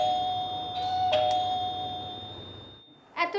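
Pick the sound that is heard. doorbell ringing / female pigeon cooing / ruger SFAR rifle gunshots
doorbell ringing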